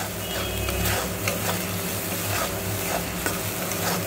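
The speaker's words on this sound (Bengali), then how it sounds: "দিয়ে আমি ভালো করে এটাকে কষিয়ে নেব।" A spice masala with turmeric and red chilli powder is sautéed in a pan for a potato, pointed gourd and prawn curry, giving a steady, close hiss with soft periodic scrapes of the stirring spoon throughout.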